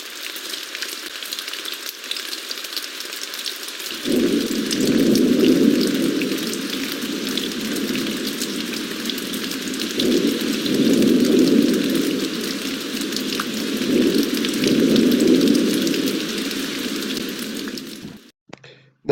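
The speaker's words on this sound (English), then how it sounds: "the sound of this thunder is not quite over when this one will start." A rain-and-thunder sound effect plays in Audacity: a constant hiss of rain with three long, low rolls of thunder that swell and overlap, then everything stops abruptly near the end.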